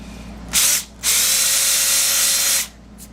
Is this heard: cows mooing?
no